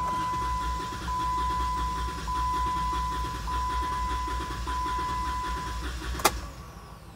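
A 2015 Jeep 3.6L engine cranks steadily during a compression test, a fast even chugging rhythm that runs throughout with a steady whine over it, then a sharp click near the end as it stops.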